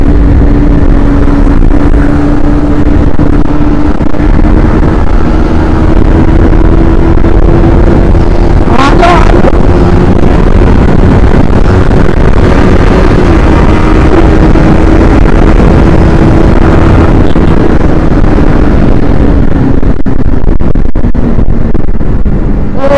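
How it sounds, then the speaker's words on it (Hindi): Yamaha MT-15 and R15 motorcycles in a short drag race, their engines droning loudly and steadily close by with a held, slowly shifting pitch, heavy wind buffeting the microphone throughout. "एमटी और आर 15 में भाई छोटी सी ड्रैग लग गई थी अभी"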